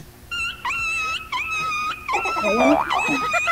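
A dog growls and whimpers in a drawn-out, wailing way, with rising and falling whines close by, broken into several bursts and ending in a rougher growl, with people faintly present in the background.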